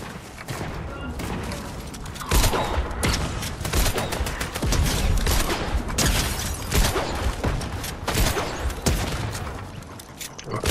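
Sustained volleys of gunfire from a Mythic weapon in Fortnite rattle on almost continuously, loud and close, with dense rapid shots and short pauses between bursts.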